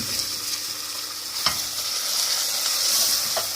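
Onions fry and sizzle in a pan during a marrow curry, a steady hiss with a few scraping stirs of a utensil against the pan, close and alone.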